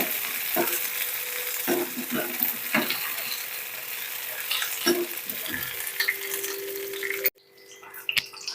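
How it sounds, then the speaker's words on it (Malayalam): Browned onions with curry leaves fry in a pan for a fish curry, making a soft continuous sizzle broken by scraping stir strokes, before the sound cuts off abruptly near the end. "ഇപ്പോൾ ഉള്ളി ബ്രൗൺ കളറായി വന്നിട്ടുണ്ട് അപ്പോൾ നമ്മൾ ഈ വേപ്പിലയും കൂടി ഇട്ട് കൊടുക്കാം"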